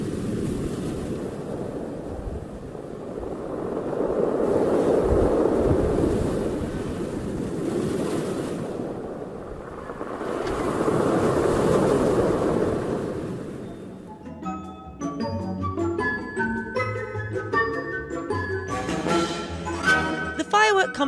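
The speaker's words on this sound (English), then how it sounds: "Today the sea was quite rough, and the tide was going out, creating a really cool sound." Rough sea surging onto a pebble beach at Llandudno as the tide goes out, two long swells of rushing waves and rolling pebbles, close and loud, before clearer, brighter sounds and nearby voices take over toward the end.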